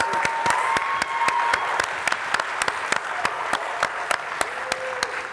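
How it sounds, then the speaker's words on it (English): Audience applause for startup pitch finalists at a live event, a steady bed of clapping punctuated by sharp, loud individual claps near the microphone, with faint background voices. "Big round of applause."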